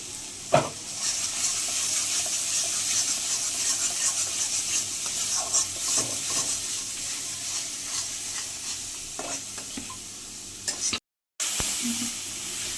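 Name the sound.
stirring and frying spice paste (masala) in a pan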